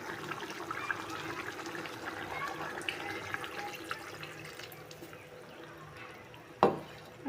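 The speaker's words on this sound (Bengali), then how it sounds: "মাংসটা কষানো হয়ে গেছে, এখন আমি পরিমাণ মতো ঝোল দিয়ে দিব।" Water pours into a pot of chicken curry to make gravy, a soft continuous splashing trickle that fades gradually, followed by a sharp clank near the end.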